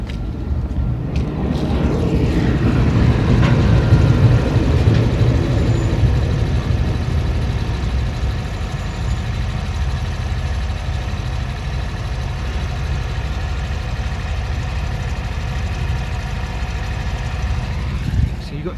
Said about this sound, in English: Oh, the roar of engines.